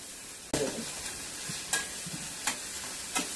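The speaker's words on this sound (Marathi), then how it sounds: "आता कांदा आपण लालसर करून घेऊया, व्यवस्थित छान परतून घेऊया।" Onions sautéing with asafoetida in a pan for peas and fenugreek bhaji: a constant frying hiss broken by a few sharp spatula scrapes and taps, close and alone.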